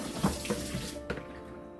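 Water is poured off and splashes in a sink while pickled vegetables are rinsed, giving several short uneven sloshes and splashes up close, then a sharp knock at the end, with no talking.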